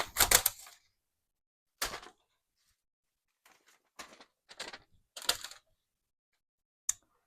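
A paper punch punches patterns into craft paper: about seven sharp, crunchy clunks, some single and some in quick pairs, spaced by silent pauses and heard close up without talk.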